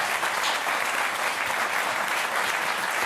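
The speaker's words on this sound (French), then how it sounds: "Je demande d'applaudir Daniel Cohn-Bendit." Studio audience on a French television talk show applauding, a dense, even wash of clapping that stays loud and steady throughout without breaks.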